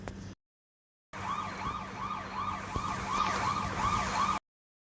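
A wailing siren rises and falls repeatedly, moderately close, after a brief cut of silence; no voices.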